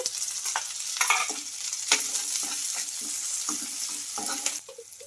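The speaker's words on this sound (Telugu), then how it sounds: "ఇలా ఆనియన్స్ కొంచెం కలర్ చేంజ్ అయిన తర్వాత కొంచెం కరివేపాకు అలాగే చిన్నగా కట్ చేసుకున్న ఈ టమాటో ముక్కలు కూడా వేసుకోవాలి" Onions, curry leaves and small tomato pieces fry in a pan with a loud, close sizzle, while a spatula stirs and scrapes in quick, irregular strokes.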